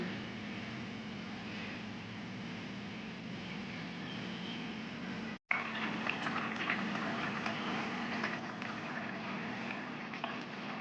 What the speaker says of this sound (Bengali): ঝোলটা আমার ফুটছে